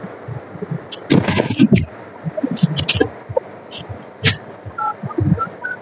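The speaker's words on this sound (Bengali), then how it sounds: "কাকে ফোন করছো তুমি আমার ফোন দিয়ে?" Mobile phone keypad dialing tones: a handful of short, separate beeps scattered among handling noise and rustle, close and moderately loud.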